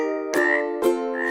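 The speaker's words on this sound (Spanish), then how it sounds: "la rana hace" A frog croaks in three loud, harmonic-rich calls evenly spaced about half a second apart, close and clear with nothing else heard.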